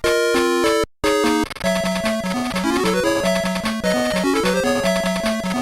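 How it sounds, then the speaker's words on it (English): 8-bit Sonic game music from the Sega Game Gear handheld: chiptune melody in square-wave tones over a bouncing bass line, with a brief dropout near the start before the tune carries on steadily. "most of them were released on the Game Gear, an 8-bit handheld console, meaning they all sound like this"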